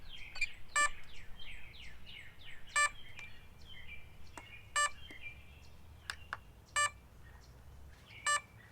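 An E-flite Cirrus SR22T model plane receiver in binding mode gives short bursts of high electronic beeps at a steady interval of about two seconds. They repeat five times, clear and close, over faint background chirps.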